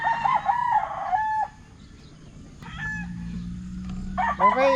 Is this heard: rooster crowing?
yes